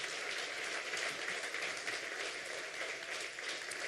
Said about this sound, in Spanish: ¿Por qué no le damos un aplauso al Rey de la Gloria en esta mañana?